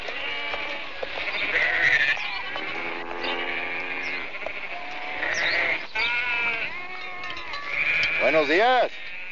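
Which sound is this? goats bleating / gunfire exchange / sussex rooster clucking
goats bleating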